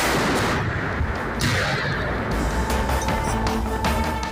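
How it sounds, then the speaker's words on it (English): Continuous gunfire on a frontline in Ukraine, with repeated sharp shots and heavier booms over a steady rumbling background, loud and sustained throughout with no talk. "Continuous firing taking place."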